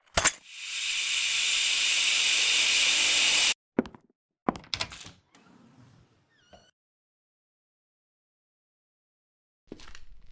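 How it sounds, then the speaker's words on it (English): A fire being doused in the game DESOLATIUM gives a loud, sustained steam hiss for several seconds that cuts off abruptly, followed by a few scattered knocks and thuds, then near silence and one last brief bump. "This should put the fire out."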